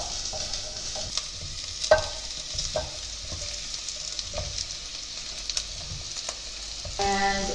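Mushrooms and mixed vegetables sautéing in a pan, with a steady soft sizzle under scattered scraping and tapping as the pan is stirred, close by and with no talking.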